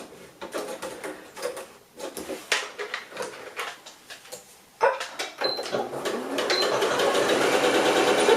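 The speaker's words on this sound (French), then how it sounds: "Donc, je vais aller coudre ce morceau-là." Domestic sewing machine stitching a piece of scrap fabric: several short stop-start runs of needle clatter, then a longer steady buzzing run near the end, all close up with no voices.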